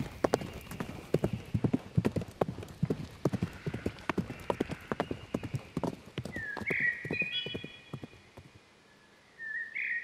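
Hooves clip-clop in a quick, regular galloping rhythm on firm ground, loud and close, then fade out as a horse whinnies near the end.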